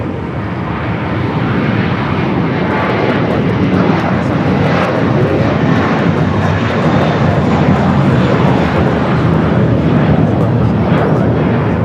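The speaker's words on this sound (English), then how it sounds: "First of 3 Japan Airline flights" A Japan Airlines jet airliner at LAX roars steadily through the whole span, a loud, broad, continuous engine rumble that swells slightly after the opening second and stays strong to the end.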